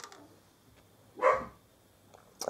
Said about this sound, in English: Again, I apologise for the dog barking in the background.